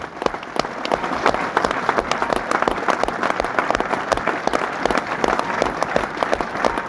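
Audience applause at a seminar in a district library as teachers are called onto the stage, dense sustained clapping from a large crowd lasting several seconds.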